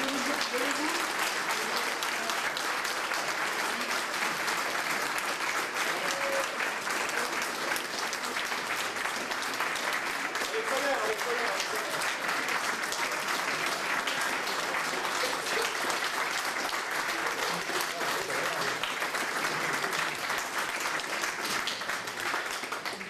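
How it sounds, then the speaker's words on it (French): A crowd applauds a group of people at a local grocery project, with sustained, dense clapping that runs steadily for over twenty seconds at a moderate distance while voices murmur underneath. "je vais vous demander de les saluer et de les applaudir, Jetmir, Camille, Ayat, Brendan, Castriote,"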